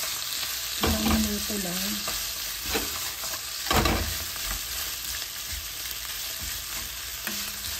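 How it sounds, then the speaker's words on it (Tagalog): Food frying and being stirred in a pan, a continuous loud sizzle with occasional stirring scrapes; a person speaks briefly over it. "Iprito lang po natin yung saglit lang."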